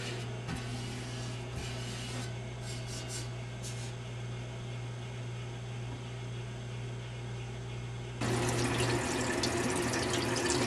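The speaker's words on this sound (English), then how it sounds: "now I'm cleaning it off with some water and a sponge" Water runs and splashes while a sponge wipes acid-treated metal clean during an Admiral 24A12 tuneup, with steady running-water hiss and rubbing, growing louder and fuller toward the end.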